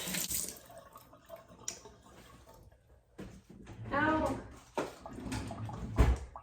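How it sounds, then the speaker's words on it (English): Hands washed under a running kitchen tap: water splashes and gushes irregularly over a sink, rising and falling as the hands move through the stream. Speech is faintly audible at times. "Wash my hands again."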